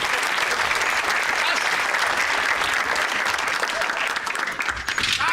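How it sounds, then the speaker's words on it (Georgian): A crowd in the Georgian series Shua Qalaqshi breaks into loud, sustained applause, a dense unbroken wash of clapping from start to finish that eases slightly near the end. "ბრავო, ტაში!"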